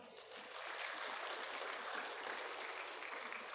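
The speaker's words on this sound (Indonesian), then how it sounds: "Tepuk tangan." An inauguration audience claps in a dense, steady wash of applause. It swells within the first half second and then holds evenly to the end, with no talk over it.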